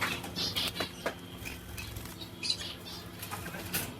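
Soft fluttering wingbeats from finches come in brief bursts, with faint chirps mixed in, close and quiet.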